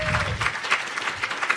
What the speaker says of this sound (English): if everyone could give a round of applause to Sam Levy and Patricia Cahill and everyone working with them